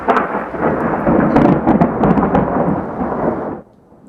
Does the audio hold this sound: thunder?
yes